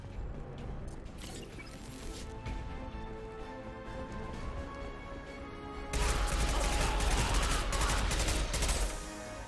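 Rapid SMG gunfire in the sci-fi game Mass Effect 2, sharp shots over a steady musical and ambient game bed, growing louder and denser in the second half.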